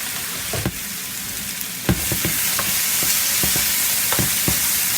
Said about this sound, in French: Maintenant, je vais mettre la courgette et les champignons.